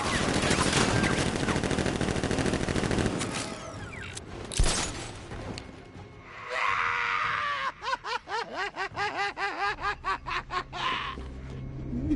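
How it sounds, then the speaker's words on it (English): Gunfire from Batman: Arkham Knight: dense, loud bursts of shooting and chaotic game noise, then a rapid rhythmic run of sharp shots and whooshing effects near the end. "Open fire! Shoot everything!"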